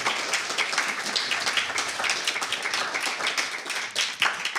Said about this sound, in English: Please give yourselves a round of applause for coming out and eating the food and having fun.